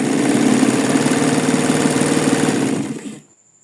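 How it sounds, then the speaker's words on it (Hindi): A sewing machine runs steadily as it stitches raw fabric, a continuous close mechanical hum with a fast needle rhythm for about three seconds before it stops abruptly. "नाउ ये हम अगेन सिलाई लगा रहे हैं।"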